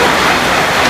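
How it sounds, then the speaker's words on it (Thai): Rain falls in a dense, steady hiss, loud and close, filling the whole second without a break or any voices. "ฝนจะตกดีขนาดเนาะ"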